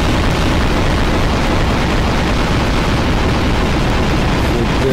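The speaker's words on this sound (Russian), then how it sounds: "Где-то там взрывы." A dense, continuous roaring rumble of explosions in the video game Garry's Mod, like distant blasts blending into one another, loud and steady with no quiet gaps.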